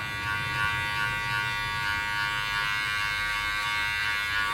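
Electric hair clippers buzz steadily and close at hand while cutting a skin fade, giving a constant high-pitched motor hum with small fluctuations as the blade moves through hair.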